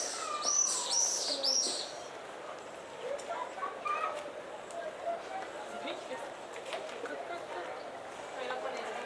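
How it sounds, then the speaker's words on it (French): Small birds chirp in short high bursts early on, fairly faint against the murmur of a sunny seaside town street on the Costa Brava at Cadaqués, Spain, with ambient footsteps and distant activity throughout. "t'as entendu un oiseau, William?"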